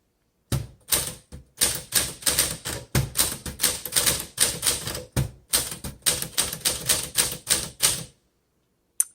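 Keys clacking on a 1949 Smith Corona Sterling manual typewriter with green keys, a fast, steady run of crisp strikes in close bursts with brief pauses, ending in a lone bell-like tap after a short silence.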